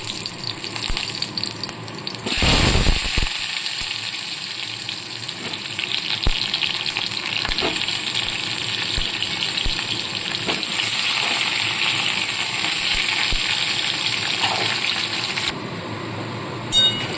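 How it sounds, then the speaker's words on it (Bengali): Halved potatoes fry in hot oil with a little salt and turmeric. A steady hissing sizzle starts suddenly and runs for about thirteen seconds, with scattered small crackles and pops, then cuts back to quieter background. "এবার এই তেলের মধ্যে আমি কেটে রাখা আলুগুলোকে ভেজে নেবো"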